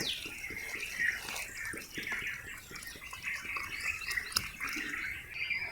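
Water is poured into a small metal pot to soak tamarind, a steady splashing, gurgling stream that runs close and continuous with no talk.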